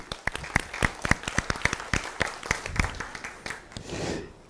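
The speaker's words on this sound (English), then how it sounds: "Once more, a very big applause for Mas Dwiki." A short burst of applause at a diplomatic forum: scattered individual claps from a small crowd, fairly close, fading into a soft rush at the end.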